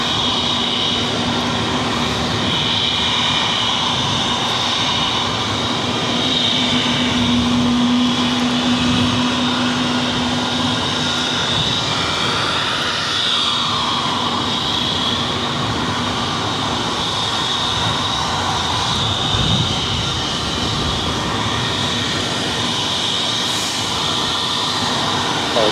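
An airplane at Boston Logan airport, a loud, sustained jet engine roar that swells as it passes near, with a steady drone throughout and no clear speech.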